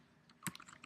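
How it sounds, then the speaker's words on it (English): A computer keyboard being typed on, a short quiet burst of several light key clicks close by, with no talking. "And I will type in background hyphen"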